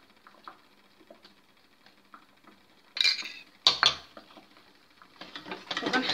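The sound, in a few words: spoon stirring melted chocolate mixture in a pot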